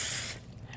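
Baker's Joy flour-and-oil baking spray hisses from the can into a cast iron pan in one steady, close burst that cuts off abruptly, leaving faint room noise.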